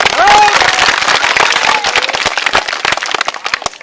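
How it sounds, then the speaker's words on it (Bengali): An audience at a street circus performance claps together, a dense, loud patter of hand claps that grows more uneven toward the end, with a voice heard briefly at the start. "একটা তালি মারো তো দেখি"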